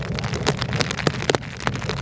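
Rain patters on a hard surface with scattered sharper drops ticking over a steady wash, close and fairly soft.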